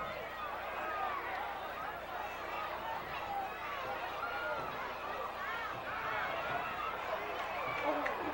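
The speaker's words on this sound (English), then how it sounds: "Not a bad crowd here tonight." Crowd chatter in the stands at a high school football game at night: a continuous murmur of many voices with shouts and cheers rising and falling, fairly loud and close throughout.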